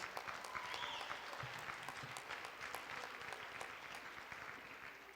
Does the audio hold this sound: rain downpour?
no